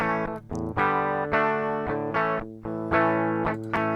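Electric guitar recorded straight from a DI with the processing plugin switched off, giving a scratchy, distorted tone: a steady run of sustained notes and chords with harsh, buzzy edges and no voices.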